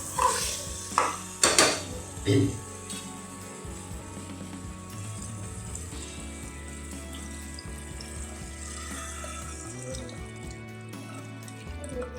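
Hot water is poured into a pan of mutton cooking in oil for a Kolhapuri curry, with a few sharp clinks and splashes at first, then a steady sizzling bubble as the liquid settles; nobody speaks.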